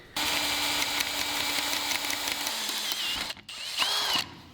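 A power drill whines steadily at high speed drilling holes for a Corvette oil cooler, then briefly stops and spins up again, loud and close.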